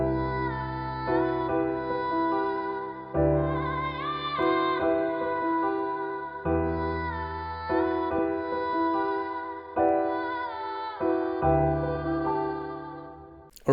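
A dark, melodic trap-style vocal melody, layered with piano and produced in FL Studio, plays as a steady run of sustained sung notes with piano chords re-striking roughly every one to two seconds, loud and without talk.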